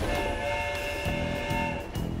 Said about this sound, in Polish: Pociąg jest coraz bliżej stacji.